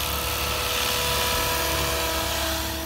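An ALZRC Devil 505 RC helicopter flies close by before landing, its rotor and motor making a loud, constant whirring drone throughout with no pauses.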